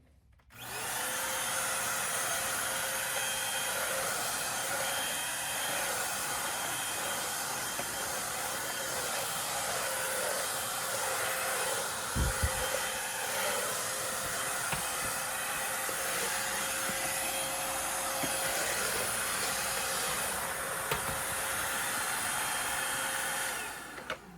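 A Eureka NES210 swivel vacuum cleaner switches on and runs with a steady, loud whining motor drone and airy hiss, nearly unchanging for the whole stretch before cutting off at the end, with a brief thump midway.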